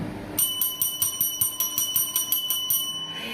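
A notification chime rings out as a rapid run of about a dozen bright, evenly spaced bell strikes, loud and clear with nothing else under it.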